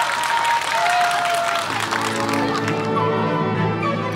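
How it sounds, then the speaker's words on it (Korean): Audience applause at the start of an evening charity classical ballet performance, a sustained wash of clapping from a crowd that swells and holds steady, with a voice speaking over it. "박수 받아주세요."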